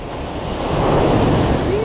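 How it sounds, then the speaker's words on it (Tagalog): Strong ocean waves at high tide in El Nido, Palawan: a close, rushing surge of surf that swells and roars, with wind buffeting the microphone. "Ang lakas ng alon! High tide."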